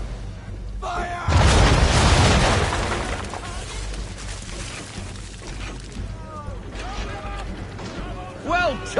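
Broadside of ship cannons firing round shot in Assassin's Creed 3, one heavy booming blast with a rumbling roll that fades into creaking, splintering debris and sea ambience, with a voice calling out near the end.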